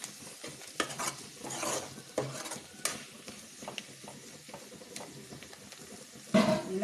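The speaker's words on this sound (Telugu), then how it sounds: "కలుపుతున్నానండి." Spoon scraping and stirring prawn fry in a pan, with irregular clinks against the metal, soft sizzling underneath and a louder clatter near the end.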